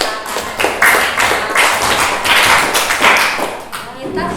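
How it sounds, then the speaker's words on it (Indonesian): A schoolchildren's class in an Islamic religious education lesson claps together in a roughly steady rhythm of loud, close bursts, a few seconds of group clapping with voices mixed in. "Iya, tepuk tangan."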